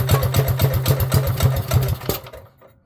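A cold Coleman B200rsv mini bike engine with 18 lb valve springs, choke on, fires up and runs in a fast, steady putter of regular pulses for about two seconds before cutting out and fading to near silence.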